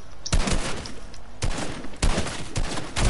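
Video game gunfire from a pistol, pump shotgun and SMG, a handful of loud, sharp bursts spaced irregularly over a busy background of game noise, with no talking.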